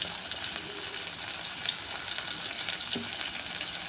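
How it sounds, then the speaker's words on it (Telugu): Onions and green chillies fry in a pan for chicken curry, giving a steady, close sizzle with faint stirring scrapes and no talk. "ఉల్లిపాయలు, పచ్చిమిర్చి ఫ్రై అవుతున్నాయి"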